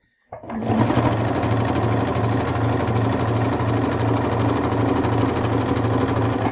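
A sewing machine stitches binding onto a quilt, starting abruptly and running at a steady, rapid, even hum and clatter for several seconds, close and clear.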